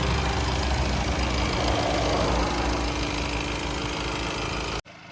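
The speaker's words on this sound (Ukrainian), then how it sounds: "мотор працює чітко, рівненько" A Honda CR-V with the 1.6 i-DTEC diesel engine idles, a steady, even, close rumble running on without change until a sudden brief cut near the end.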